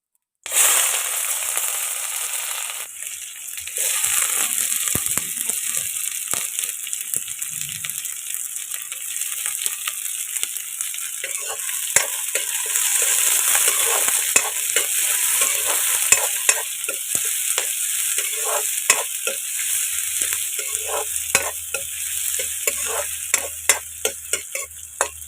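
Onions sizzle and fry steadily in fat rendered from pork in a pan with jabrang and jaluk, a continuous loud hiss with occasional crackles and stirring scrapes, no voices.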